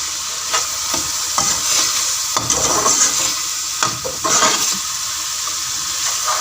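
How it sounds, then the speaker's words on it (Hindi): Yogurt being stirred into sizzling biryani masala in a pan for chicken tikka biryani, with repeated scraping strokes over a steady frying hiss and no talk. "ये दही इसमें डाल दिया है, इसको मिक्स करेंगे"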